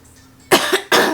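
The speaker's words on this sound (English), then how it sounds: "Sorry, clear my throat." After a brief quiet moment, someone close by clears their throat in two sharp, raspy bursts.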